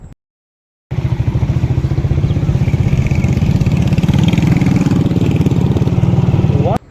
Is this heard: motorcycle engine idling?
yes